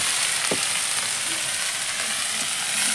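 A vegetable curry of stalks, eggplant, potato, taro and pointed gourd frying in a pan, giving a steady close hiss of sizzling with a few faint clinks of stirring.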